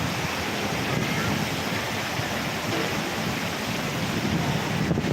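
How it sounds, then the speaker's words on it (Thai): Strong wind roars steadily through a heavy rainstorm near a market in Thailand, a dense, continuous rushing wash filling the whole clip at close, loud level with no pauses. "ลมแรงลมแรงลมแรง"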